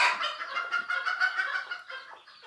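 Close, moderately faint clucking from a rooster surrounded by its chicks, a busy run of short overlapping calls and soft chatter with no talk.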